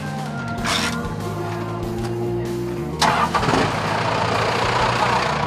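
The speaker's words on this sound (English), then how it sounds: "The old diesel sound, huh?" A 1951 Ford F1 truck at a street car and custom bike show cranks over and catches, settling into a steady low idle that stays close and loud, with brief voices in the background.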